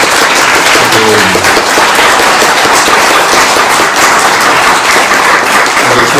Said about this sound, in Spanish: que le diéramos un aplauso a Juaco por el esfuerzo inmenso